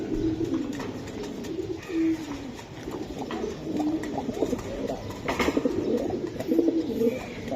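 Giribaz pigeons coo close by in a steady run of low, throaty, repeated calls that continue through the whole stretch, with no talking.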